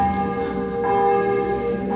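Church bells ring continuously during a Sunday homily at Mass on the 30th Sunday of the year, a steady, loud wash of overlapping bell tones with no talking.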